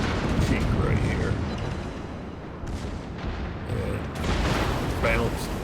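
USS California, a Tier-7 American battleship in World of Warships, with heavy shell fire and impacts rumbling as dense booming, layered blasts throughout, loud and close under a man's speech.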